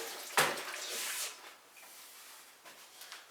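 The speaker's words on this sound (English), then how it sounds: "I'm going to wash my hands" Hands are washed under running water: a short, soft splash of water lasting about a second, followed by faint dribbles and quiet handling noises.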